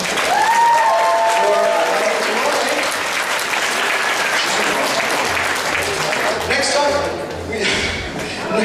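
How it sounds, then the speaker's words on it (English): Sustained audience applause at an anime convention costume contest, loud and dense throughout, with a few voices and whoops mixed into the clapping crowd. "Once again, big round of applause."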